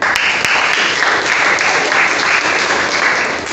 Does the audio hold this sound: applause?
yes